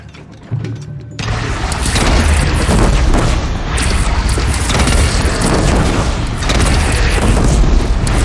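Heavy booming cannon fire and battle noise in the Horizon Zero Dawn Remastered video game, loud and sustained after a quieter opening, with dense crashing layers throughout.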